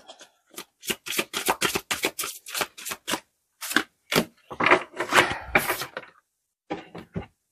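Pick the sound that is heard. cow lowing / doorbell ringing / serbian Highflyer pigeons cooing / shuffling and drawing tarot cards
shuffling and drawing tarot cards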